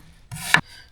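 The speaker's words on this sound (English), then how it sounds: "we're going to use a little bit of thinly sliced red onion" Red onion thinly sliced with a knife for gyro toppings, a single short crisp cut ending in a sharp tap on the board, close and alone.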